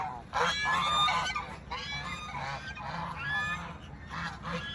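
Waterfowl honking and calling at a spring-fed farm pond, repeated loud nasal honks in overlapping bursts, close by and continuous with no talk.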